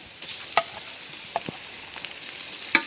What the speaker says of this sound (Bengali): পেঁয়াজ ভাজে নিলাম, এখন দিয়ে দেই মশলা।